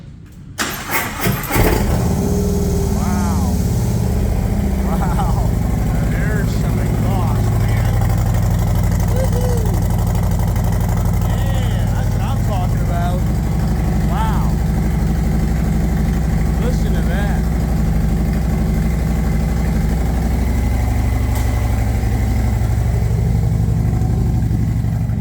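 A Harley-Davidson trike engine cranks and fires up, then settles into a loud, steady low rumbling idle that runs for the rest of the clip, with a person speaking briefly over it.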